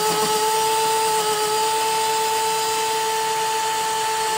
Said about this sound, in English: We're gonna use the drill.